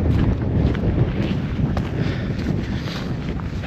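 Cold winter wind in the Peak District buffets the microphone in heavy, low rumbling gusts that stay strong throughout, with no voices.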